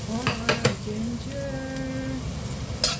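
Ginger sizzles in hot oil in a pan for fish escabeche, a steady frying hiss broken by several sharp scrapes and clanks of a utensil stirring, close up with no talk.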